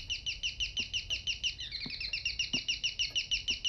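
Birds chirp quickly and steadily in the video game Devotion, a fairly close, continuous twittering with a few soft low knocks underneath and no voices.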